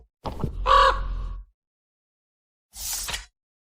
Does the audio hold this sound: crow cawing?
yes